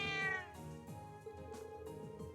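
A cat in the video game Trails of Cold Steel gives a single clear meow at the start, followed by soft in-game music with rhythmic plucked notes and no talking.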